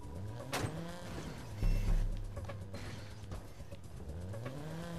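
Engine of a slightly rusty car driven in the Watch Dogs video game, a steady rumbling drone with a louder surge partway through and mechanical creaks, close and alone without talk.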